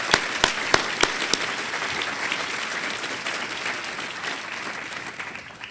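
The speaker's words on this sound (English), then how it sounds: "they deserve a round of applause" Audience applause at an awards salute to excellence, dense broadband clapping with a few sharp individual claps at the start, steady and fairly loud before slowly fading toward the end.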